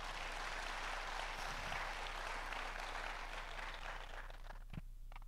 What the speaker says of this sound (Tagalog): isa nga po malakas na palakpak para sa ating Panginoon.